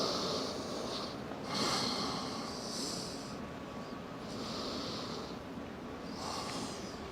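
Slow, deep breaths during a yoga class, each long inhale and exhale a soft airy rush that swells and fades in a steady unhurried rhythm, close and fairly quiet, with no talking.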